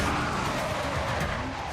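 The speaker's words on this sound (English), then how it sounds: "A split-second gear change." A Nissan GT-R with a hand-built engine roars through a split-second gear change, a loud broadband blast of engine and road noise sustained close by with no break.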